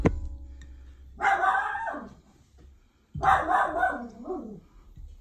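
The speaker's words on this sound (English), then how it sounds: "What are you barking at?" A dog barks in two bursts a couple of seconds apart, fairly close, each a short run of barks, with a quiet hum between.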